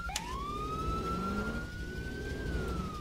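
A police car siren in Garry's Mod DarkRP sounds as a single long, slowly rising and falling wail over a low engine rumble, steady and moderately loud throughout.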